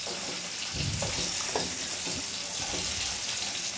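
Pointed gourd (potol) frying in a pan, a dense, continuous sizzle with some stirring clatter, close and steady with no talking.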